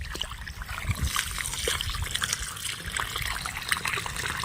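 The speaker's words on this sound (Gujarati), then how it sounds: "હવે જોર પર આવવા લાગ્યું છે પાણી." Water rushing and gushing steadily into a farm field with splashing and bubbling, close and fairly loud, no voices.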